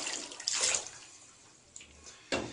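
Water splashes and pours into a bathtub as a cat is bathed, coming in short close bursts with quieter gaps between, no voices present.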